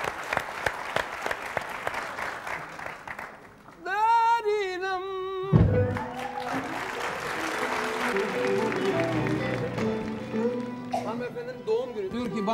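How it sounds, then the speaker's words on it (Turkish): Studio audience on a Turkish TV talk show bursts into loud, sustained applause, a dense wash of clapping that swells midway and carries on under a brief tonal musical sting, with talk mixed in. "Alkışlıyoruz."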